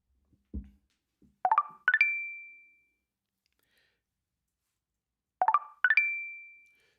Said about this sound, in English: So, Tinder app notifications.